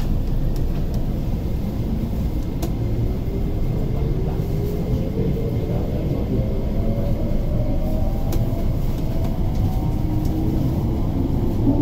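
An MTR East Rail Line SP1900 (IKK) electric train runs between Sheung Shui and Hung Hom, giving a steady, loud rolling rumble throughout with a motor whine that gradually rises in pitch.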